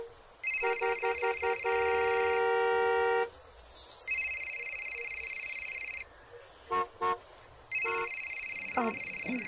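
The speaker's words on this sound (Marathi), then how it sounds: "खूप ट्रॅफिक आहे इकडे" Car horns sound in heavy street traffic, with long steady honks held for a second or two and a quick run of short toots, loud and close, amid a background hum of traffic noise.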